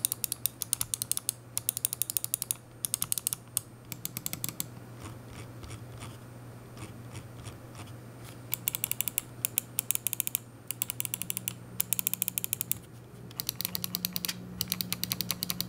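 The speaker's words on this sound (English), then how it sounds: "Scroll wheel, again, really nice and recessed right there, nice rubber coating, and it feels fantastic. It's not too clicky, not too thumpy." The rubber-coated, recessed scroll wheel of an SPC Gear LIX+ gaming mouse is rolled in repeated bursts, giving close, crisp runs of ratcheting clicks separated by short pauses over a low steady hum.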